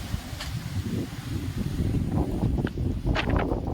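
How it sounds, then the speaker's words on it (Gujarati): Strong wind gusting across an outdoor farm field, a heavy rumbling buffet on the microphone with rustling bursts, continuous and close throughout. "પવન જ એટલો છે અત્યારે."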